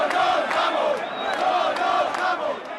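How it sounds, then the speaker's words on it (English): A street crowd of protesters confronts police in Madrid, a dense wash of shouting and chanting voices that swells and falls in waves, close and loud, with occasional sharp cries rising above the mass. "On the streets of the Spanish capital, tensions escalated as protesters confronted police refusing to move."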